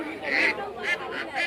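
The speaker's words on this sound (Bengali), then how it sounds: "এটা হলো হাঁস" Domestic ducks call at a village poultry market, a few nasal honking bursts repeating close by amid general crowd noise.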